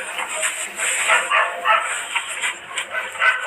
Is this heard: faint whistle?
no